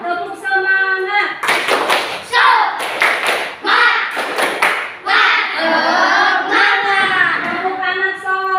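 A group of children in an Indonesian classroom claps in quick rhythmic bursts between loud group chanting, the patterned claps sharp and close.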